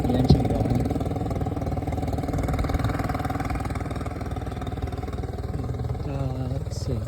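A 40 HP Mercury outboard on a 2011 Tracker Marine Super Guide 16-foot V-hull boat runs at a steady idle, a continuous close motor drone with faint voices beneath it.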